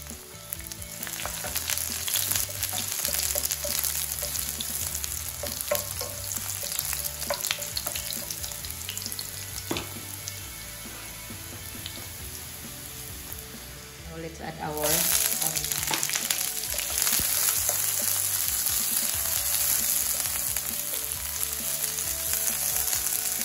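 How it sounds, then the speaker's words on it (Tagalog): Garlic sautés in two tablespoons of hot oil in a cooking pan, a steady loud sizzle running throughout with light stirring clatter, swelling brighter and louder about halfway through. "Saute the garlic."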